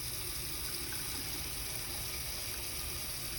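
Water running from a sink faucet for hand washing, a steady, moderately quiet rushing hiss that continues unchanged without any voices.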